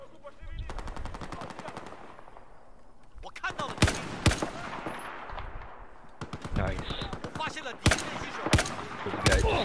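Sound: gunfire in the video game Battlefield 4

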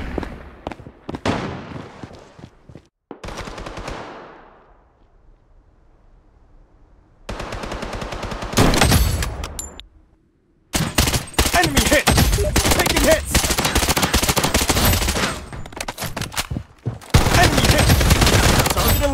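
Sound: gunfire in the video game Blood Strike

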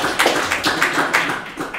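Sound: audience applause for Phil

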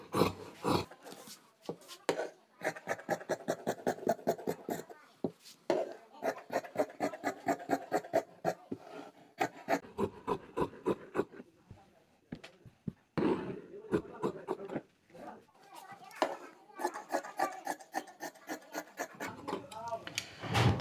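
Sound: cutting kameez fabric with scissors

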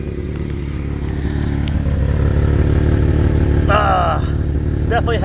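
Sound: jeep engine idling with exhaust leak

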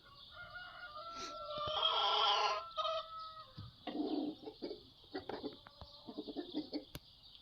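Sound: chickens clucking

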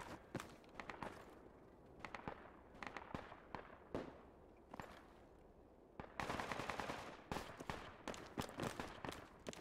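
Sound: gunshots in Project Reality video game

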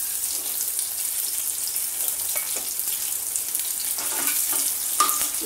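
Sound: green and red chillies sizzling with cumin in pan

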